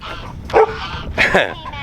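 Two sharp, loud dog barks close by, spaced about half a second apart, with a faint whimpering quality.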